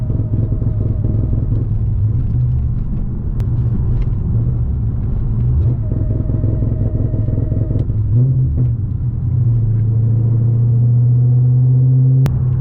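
Cadillac CTS-V V8 with a Lingenfelter launch controller idles with a loud, steady rumble, then blips up to a held rev limit near 1300 RPM, a deep sustained engine drone close by with no talk.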